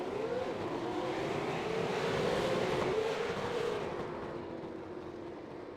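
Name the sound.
V8 Supercars race cars accelerating at race start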